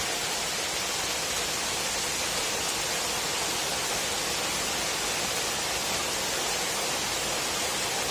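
Heavy rain pours steadily during a storm in Kyiv, a dense, loud and continuous roar of water with wind, no voices.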